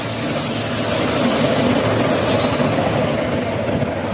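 Train pulling into a railway station on a temple trip to Tiruchendur, a steady loud rumble of rolling wagons with a few high wheel squeals near the start and middle, no talking.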